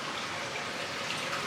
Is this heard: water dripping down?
yes